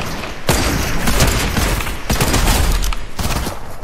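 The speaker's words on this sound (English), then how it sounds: "Whoever just shot my head." Loud, close bursts of gunfire in the video game Fortnite, in heavy rapid volleys broken by short pauses, with no voices.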